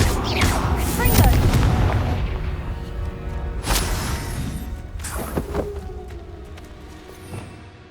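Confringo fire spell cast in the video game Hogwarts Legacy, loud booming blasts with whooshes and crackling impacts over dense combat noise, several bursts across the stretch.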